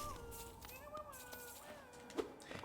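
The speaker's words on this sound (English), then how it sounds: "Man, grub noises really are the best." Small squeaky meow-like creature cries from a grub in the video game Hollow Knight, a few short high calls overlapping game music and ambient tones.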